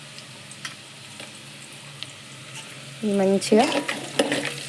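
Bay leaf, mace flower and cinnamon spices sizzle and crackle in hot oil, quiet at first and then swelling into louder, busier frying, with a brief spoken word over it.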